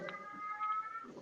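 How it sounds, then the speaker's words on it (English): A faint, somewhat distant cat meow, one drawn-out tonal cry of about a second heard over low room background. "That sounds like a cat."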